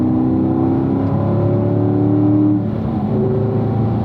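A car engine on a race track, loud and close, rising steadily in pitch as the throttle is squeezed, then dropping briefly before settling into a higher drone.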